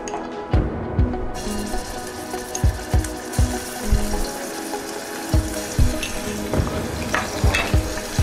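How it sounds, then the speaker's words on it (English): Garlic going into heated oil in a pan while cooking a paneer haldi masala, a broad sizzle hiss under repeated sharp knocks and scrapes of a utensil against the pan, fairly close, with no talking. "So we're going to add garlic."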